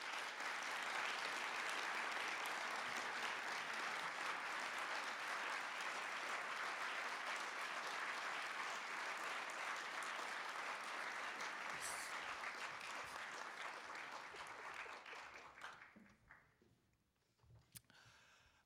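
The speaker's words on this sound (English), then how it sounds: "Let's give them one more round of applause" Long, loud audience applause at an academic award presentation, a thick, continuous crackle of many hands that holds steady, then thins and fades out with a few last scattered claps.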